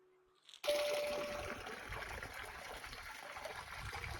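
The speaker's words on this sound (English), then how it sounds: "to this sweetly flowing river." A sweetly flowing river trickles and burbles steadily after a brief quiet start, with a soft continuous wash of water close by and no voices.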